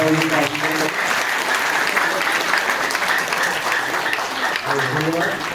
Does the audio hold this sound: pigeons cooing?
no